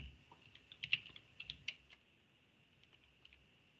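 Typing on a computer keyboard: a quick burst of close, light key clicks, then a few sparser taps as the typing slows and trails off.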